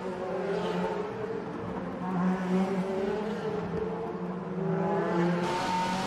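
A DTM race car at the 2014 Norisring round accelerates hard out of a turn, its engine roaring loud and close with a steady, rising drone for the whole stretch.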